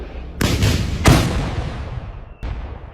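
Three heavy gunshots boom out at irregular intervals, each a sharp blast followed by a rumbling tail, close and loud.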